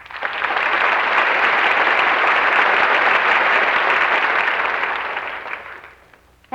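Studio audience applause during a live television variety broadcast, a dense sustained wash of clapping swelling in quickly, holding steady for several seconds, then tapering off before a brief sound at the end.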